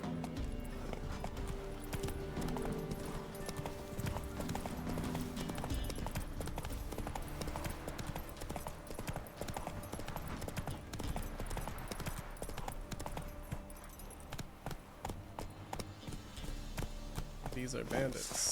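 Horse hooves clip-clopping at a steady trot in The Witcher 3, a rhythmic stream of close hoof beats with game ambience and a person talking over it.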